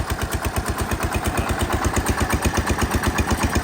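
A Massey Ferguson 16 garden tractor engine idles close by, a loud, steady, even chugging of rapid regular pulses with no voices over it.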